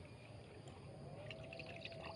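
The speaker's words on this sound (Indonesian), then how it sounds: "lalu kita siram ya, siram dengan air." Water poured over a freshly transplanted chili seedling in a polybag made from a used water gallon, a soft steady trickle and splash running throughout at low level.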